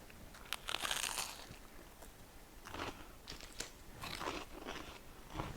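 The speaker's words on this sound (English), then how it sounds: "Can you hear that crunch?" Crunchy bites into garlic bread, a few crisp cracking bursts spread over several seconds with quieter chewing between, close up with no talking.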